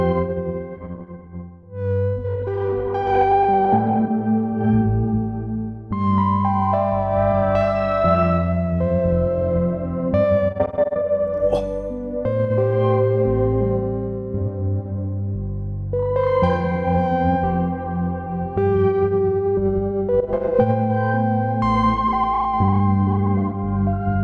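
An electric guitar runs through a Chroma Console pedal with a lower-octave echo effect, playing sustained chords and notes that ring out and repeat in a deep, shimmering wash, steady and fairly loud.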